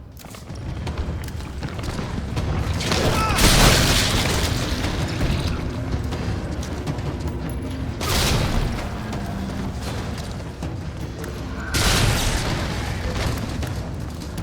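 Grenades exploding in Resident Evil 3, three loud, booming blasts spaced a few seconds apart, each with a long rumbling tail over continuous game noise.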